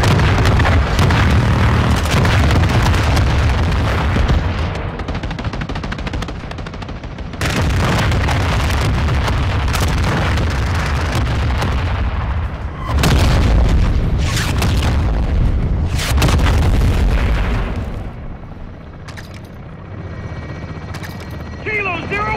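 Heavy gunfire and explosions in Call of Duty: Modern Warfare II, loud dense bursts with deep booming blasts and an aircraft-like roar, broken by brief lulls and tapering off near the end.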